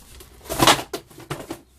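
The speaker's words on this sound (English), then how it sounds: "Get the box out the way." A cardboard box shoved aside indoors, a few short scraping and thumping sounds close by, one louder rustle followed by two quick knocks, brief and faint.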